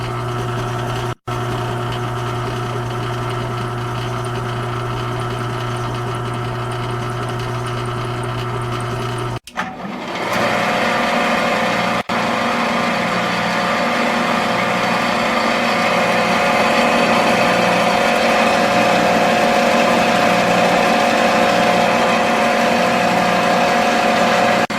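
Electric motor in a star-delta starting lab setup hums steadily at close range, its tone shifting at about ten seconds as the windings switch configuration, then running on with a louder, fuller hum to the end.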